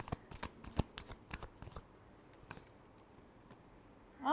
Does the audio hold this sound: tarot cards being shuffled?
yes